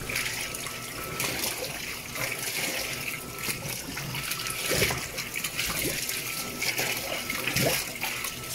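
Water sloshing and splashing in an Electrolux LEC14 washing machine drum as fabric softener is stirred in by hand during a heavy wash cycle, a steady close churning with irregular splashes.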